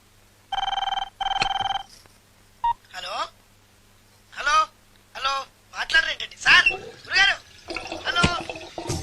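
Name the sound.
telephone being dialed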